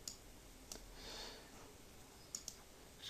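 Computer mouse clicking a few times, faint sharp clicks spaced apart with a soft double click near the end, alone in a quiet room.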